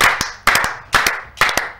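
A church congregation claps in rhythm at an evening prayer gathering. Sharp, close claps fall in quick pairs and triplets, about twice a second, with no voices.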